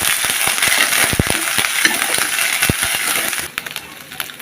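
Chopped garlic frying in hot oil while a goat head and potato dish is being prepared, a steady loud sizzle with sharp crackles and pops scattered through it, easing off near the end.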